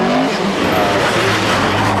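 A Lotus Sunbeam rally car is held in opposite lock on a 1991 park rally stage, its engine roaring loud and close as the tyres skid and squeal in one continuous slide.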